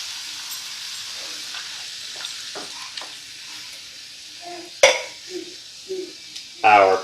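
Sweet potato and canned tomato cooking together in a crowded pan, giving a low steady sizzle with a few soft stirring knocks and a couple of louder metallic clatters near the end, close by and with no talk.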